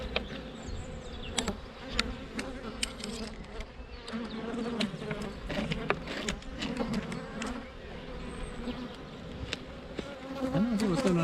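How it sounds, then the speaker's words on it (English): Honeybees buzz around an open hive during the first spring inspection, a continuous close swarming hum with individual bees darting past the microphone. "Honeybees on that one, there's not honeybees on there."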